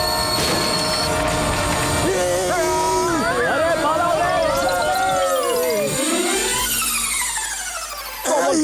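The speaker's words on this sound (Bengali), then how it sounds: "ডক্টর ঝটকা, ট্রেন থেমে গেছে।" A cartoon train braking hard and coming to a stop, long metallic wheel squeals sliding and wavering over rumbling noise, with a loud crowd-like babble, then the squeal fades out and a low hum remains.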